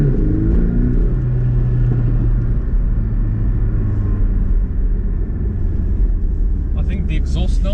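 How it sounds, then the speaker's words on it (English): Porsche 718 Cayman S with a turbocharged four-cylinder engine, its exhaust droning steadily and fairly loudly with a low buzzy tone as the car drives on. Faint high rattling clicks come in near the end. "I think the exhaust note is great."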